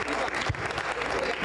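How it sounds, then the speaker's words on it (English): An audience at an election debate applauds, a dense, steady wash of clapping throughout, with a voice briefly audible over it. "Please keep clapping for them."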